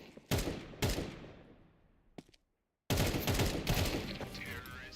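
Bursts of video game gunfire in a chaotic esports firefight, several loud volleys with short gaps and a brief silent break before a sustained stretch of shooting.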